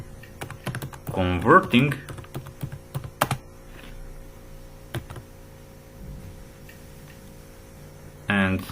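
Scattered clicks of computer keyboard keys come close by as C code is typed, with bursts of speech at the start and end and sparse keystrokes in between.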